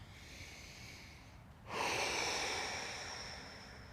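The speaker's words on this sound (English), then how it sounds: "Breathing in through the nose and out through the mouth, staying relaxed." A person breathes deeply during a full-body stretching routine, a quiet nasal inhale followed by a louder, sustained breathy exhale through the mouth, close and alone.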